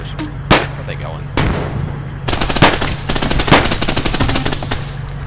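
Rapid SMG fire in a video game chatters in close, loud bursts, starting with a few scattered shots and building into continuous automatic fire over a steady low background hum.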